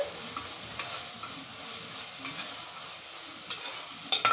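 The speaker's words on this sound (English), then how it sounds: "Now I'm going to very little amount of turmeric powder into the oil, into the onion mixer." Onions sizzling steadily in hot oil with a little turmeric powder, a continuous fry broken by a few soft stirring clicks from a spoon against the pan.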